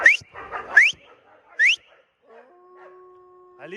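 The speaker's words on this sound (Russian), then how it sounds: "Так, там Луйка и Алита собачится" Black arctic wolves squabbling at close range, sharp rising yelps and whimpers in quick bursts, then a brief thin whine trailing off into quiet.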